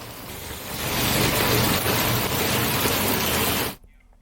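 Heavy rain pours in Haridwar, Uttarakhand, as a dense, steady hiss that builds over the first second, holds loud and even for about three seconds, then cuts off abruptly.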